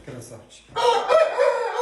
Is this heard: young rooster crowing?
yes